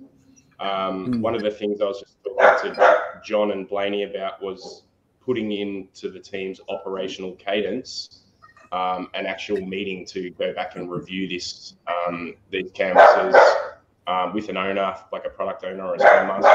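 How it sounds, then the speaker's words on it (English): A dog barks intermittently in a home during an online presentation, the barks sitting in the background beneath a speaker's continuous talk. "my dog's just decided to start barking"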